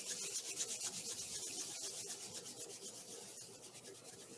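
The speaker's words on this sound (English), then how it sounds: "Rub your palms." Palms rubbed briskly together during a pranayama and meditation practice give a close, steady, dry friction sound that pulses back and forth for several seconds, alone and quiet.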